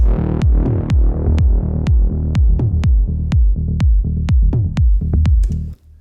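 A melodic techno loop built from preset sounds, with a punchy bass hit landing on a steady four-on-the-floor pulse, crisp clicky transients and sustained synth tones underneath, loud and continuous without voices.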